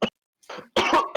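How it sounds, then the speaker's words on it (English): Several dry, close coughs in quick succession from one person at a tabletop roleplaying game session, short bursts separated by brief pauses. "A bunch of coughs."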